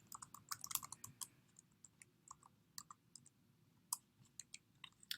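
A session ID is typed on a computer keyboard, with quick irregular key clicks in short bursts and a few sharper taps. The keystrokes are close but quiet, with no talk over them.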